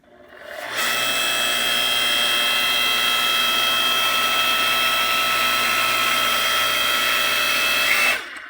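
A hydraulic log splitter works steadily on a piece of walnut firewood, giving a loud, continuous mechanical whine and hum that starts abruptly, holds for about seven seconds and then cuts off.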